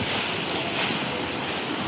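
Sea waves roll and break in the rain, a dense, steady roar of surf and wind that fills the short stretch without pause or voices.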